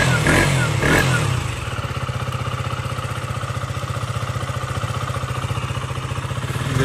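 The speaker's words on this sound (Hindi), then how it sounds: "बाइक हमारी पहले वार्म अप हो रही है" A motorcycle warms up at idle, its engine chugging in a fast, even pulse that stays loud and close throughout, after a brief rougher burst at the start.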